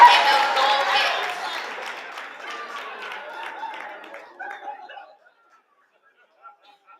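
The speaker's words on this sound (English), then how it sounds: "Another round of applause for our 2025 Juliet Moore." Scattered applause and chatter from guests at a social recognition event, starting fairly loud and thinning out to a few last claps before going quiet.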